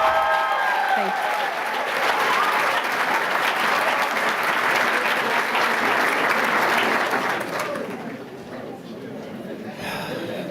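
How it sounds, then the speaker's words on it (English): An audience at an awards ceremony applauds loudly and continuously for about eight seconds, then the clapping thins and fades. "Let's give another round of applause to all of our Black Excellence recipients."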